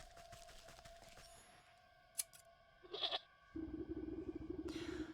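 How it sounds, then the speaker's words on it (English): Goat bleating as its hair is trimmed in the video game Wytchwood, a nasal wavering bleat followed by a sustained buzzing tone, set among soft game effects and a sharp click, fairly faint overall. "time to trim a goat's hair"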